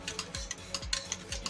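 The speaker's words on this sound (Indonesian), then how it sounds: "Aduk, kita aduk-aduk." Agar-agar and sugar pudding mixture for a baby being stirred in a pot, a close sequence of soft scraping strokes at a steady rhythm.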